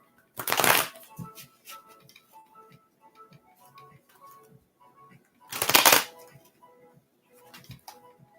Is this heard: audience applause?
no